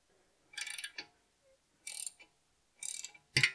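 A ratchet clicks in four short, separate bursts while loosening the lower brake caliper bolt on an Audi S4 during a front brake upgrade, with quiet gaps between the close, crisp bursts.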